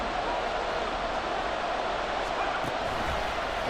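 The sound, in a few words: crowd cheering in a football video game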